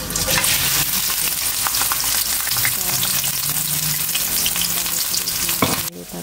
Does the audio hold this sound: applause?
no